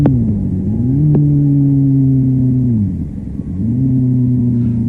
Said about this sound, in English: he's revving the motor, but the clutch release is so slow he loses all the revs from his throttle blip